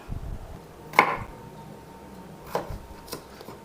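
A knife cuts peeled carrots on a board in a home kitchen, making a few sparse, crisp chops with quiet pauses between them.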